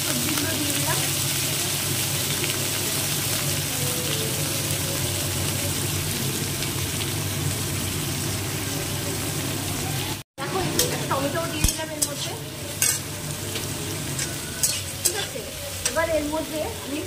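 Vegetables fry and sizzle loudly in a hot pan, a dense constant hiss with scraping and stirring clatter later on, while a voice talks now and then.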